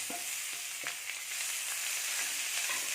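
Grated coconut sizzles in a pan as stuffing for Malabar unnakkaya, a soft, constant frying crackle broken by a few light scrapes of stirring.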